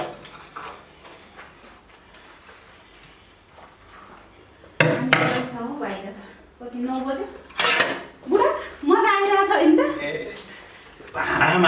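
Dishwashing with soap: pots, pans and utensils clatter and knock in bursts, growing busier in the second half, with people talking and chuckling throughout.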